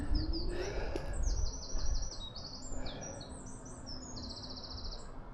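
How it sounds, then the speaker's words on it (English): Several birds sing at dawn in the open, with bright chirps and rapid trilled phrases overlapping over a soft outdoor background, some calls near and some farther off. "Can anybody hear the birds singing?"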